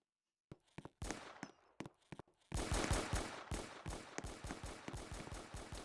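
Rapid gunfire from a Roblox video game, starting with a few scattered shots, then breaking into dense, steady automatic bursts that run loud and close to the end.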